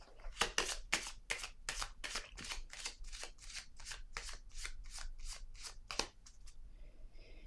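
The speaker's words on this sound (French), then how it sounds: "Je vais déposer une autre carte ici." Playing cards are handled and laid down in a quiet room, giving a quick series of about fifteen crisp, close flicks and snaps in a fairly even rhythm, with no talking.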